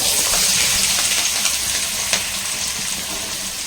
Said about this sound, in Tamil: இப்போ வெங்காயமும் பச்சை மிளகாவும் சேர்த்துக்கலாம்.